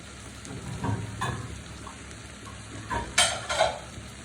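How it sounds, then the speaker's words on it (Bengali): A sweet, sour and spicy raw mango and potato pickle fries in an uncovered pan, a soft sizzle punctuated by a few scraping stirs and clinks of a spoon against the metal, louder near the end, with no voices. "ঢাকনা না দিয়ে কিছুক্ষণ ভেজে নেব"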